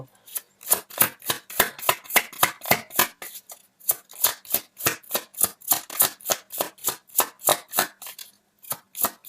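A deck of tarot cards being shuffled, a long run of crisp, evenly spaced riffling slaps in steady rhythm, close and clear with no talking.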